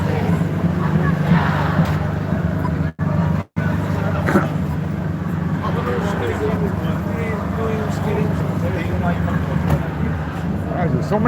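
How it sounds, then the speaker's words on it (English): A generator runs somewhere nearby as a steady, low, droning hum that continues unbroken through the whole stretch, with voices heard over it. "generator, I can hear a generator going somewhere."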